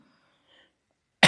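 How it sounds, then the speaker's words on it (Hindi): A teacher gives a single sharp cough during a Class 9 maths lesson, one short, loud burst at the very end after near silence. "ये खांसी भी ना क्या करें"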